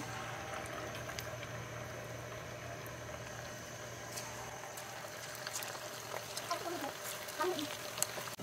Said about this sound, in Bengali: নুডলসটা কিন্তু অনেকটাই বয়েল হয়ে আসছে